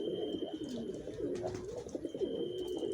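Racing pigeons of a long-distance line coo in their loft, a steady overlapping stream of low throaty burbles from several birds close by, with no talk.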